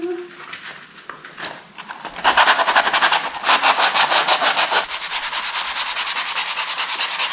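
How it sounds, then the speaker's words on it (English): Wood filler is sanded off by hand with coarse 80-grit sandpaper, the loud, close, scratchy rubbing strokes coming in a fast regular rhythm after a brief quiet start. "I'm just starting with a coarser kind of grade of sandpaper, starting with an 80, just to get the bulk of the wood filler off"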